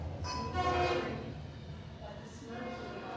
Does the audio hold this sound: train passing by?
yes